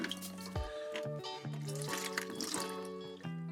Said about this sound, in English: now you can empty that out, because it will have some water inside